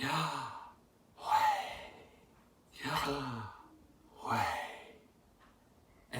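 A voice imitates slow human breathing, said to sound like the name Yahweh: three long, airy breath sounds, each swelling and fading, separated by pauses, close and clear.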